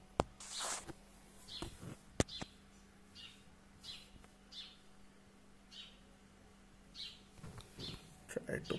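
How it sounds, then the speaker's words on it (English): A small sparrow chirps outdoors in short, repeated bright calls spread through the scene, with occasional sharp clicks and faint handling noise nearby. "The little bird is chirping away."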